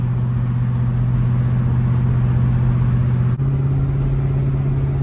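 A 1970 Pontiac LeMans engine pulls steadily in third gear, a loud constant drone with a strong low hum that shifts pitch slightly partway through, heard from inside with no talk.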